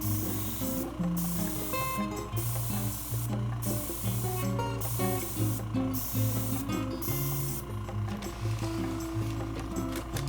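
An airbrush lays a fine first layer of paint onto a Z scale model railroad cabin, giving a soft continuous hiss with brief pauses between short passes, close by, over low background music.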